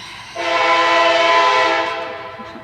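A train passes close by with its horn blowing, a loud sustained tonal blast that swells in quickly and holds before fading away, in rural West Virginia.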